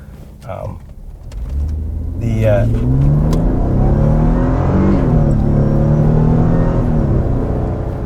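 A Mercedes-AMG car accelerates at half throttle, its engine swelling into a loud, sustained roar that rises in pitch and lasts several seconds, following brief voices at the start.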